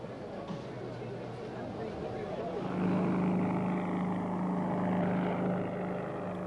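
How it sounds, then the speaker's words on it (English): Lindbergh's fuel-laden propeller monoplane takes off for its long-distance flight, its engine drone swelling and steadying into a louder hum midway, with narration over it. "his monoplane Orion NYP took off on its epic journey"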